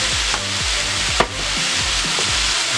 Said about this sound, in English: And just stir fry that together for about 2 minutes until that sauce is reduced directly onto the vegetables